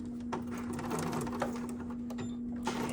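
A sewing machine runs a steady stitch along a fabric edge beside the presser foot, with an even mechanical whir and a constant hum, fairly quiet, carrying on without pause for a few seconds.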